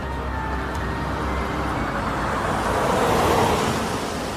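A car travelling along a road gives a steady low engine and tyre rumble inside the cabin, constant and moderately loud, with no voices.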